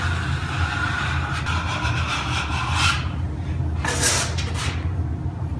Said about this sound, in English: Keep the trowel as flat as possible.